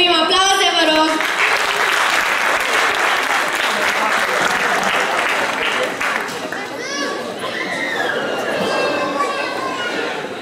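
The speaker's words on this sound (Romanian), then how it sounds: "Aplauze, vă rog!" Loud applause from a crowd fills the room at a high school freshmen's ball, with children's voices and chatter mixed in as the clapping carries on.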